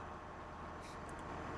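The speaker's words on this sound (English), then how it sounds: "I hear our truck coming around the corner" A truck rumbles steadily in the Farming Simulator 17 game, a constant low engine drone with a few faint higher tones mixed in.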